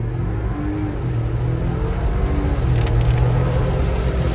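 A 2022 Ford Bronco two-door Sasquatch on 35-inch tires cruising along, its engine humming at a steady low drone with road and wind noise, fairly loud and continuous without speech.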